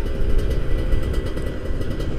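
A 2011 Kawasaki Ninja RR Special Edition motorcycle engine runs close and loud with a steady, rough two-stroke rattle and no pauses, with no voices.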